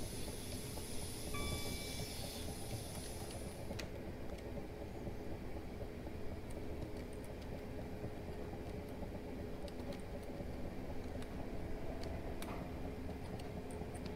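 Class 455 train coasting downhill in Train Simulator 2019 on the Portsmouth Direct Line: steady rolling rumble of wheels on track with faint hiss and occasional clicks, continuous and close, no voices.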